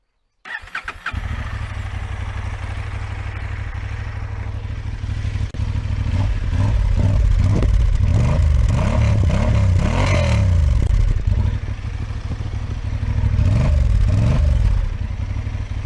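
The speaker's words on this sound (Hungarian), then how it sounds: "Ami igazán jó lehet, az a kipufogónak a hangja." A 2023 Honda XL750 Transalp motorcycle engine fires up and idles with a deep, throaty exhaust rumble, then revs several times, rising and falling loudly up close.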